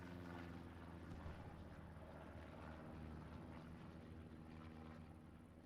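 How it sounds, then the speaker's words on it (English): Recon planes cross over the centre of the map in Hell Let Loose, a continuous droning propeller-engine rumble that holds steady and fairly distant throughout. "Recon planes just come across the centre of the map."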